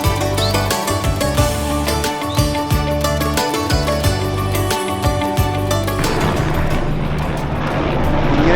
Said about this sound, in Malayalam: ഇത് ഇവിടുന്ന് ലൂക്ലാന്ന് എവറസ്റ്റ് ബേസ് ക്യാമ്പിലേക്കുള്ള ഹെലികോപ്റ്ററാണ്